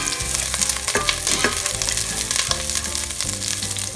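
Garlic sautés in a hot pan, a loud, close, continuous sizzle and crackle of frying with faint stirring scrapes and no talk.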